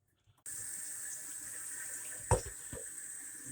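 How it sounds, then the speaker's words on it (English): Warm tap water runs steadily into a sprouting jar of lentils, a continuous close splashing stream that starts abruptly and holds even, with a couple of brief louder splashes or clunks against the glass. "The next step is to rinse them, and I personally like to use slightly warm water."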